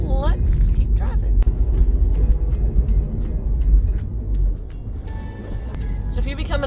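A car drives through a neighborhood before dawn, giving a steady low engine and road rumble from inside the cabin that eases slightly toward the end.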